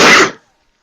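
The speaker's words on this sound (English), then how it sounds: "I sneezed." One sharp, loud human sneeze bursts out close to the microphone and cuts off within a third of a second, followed by silence.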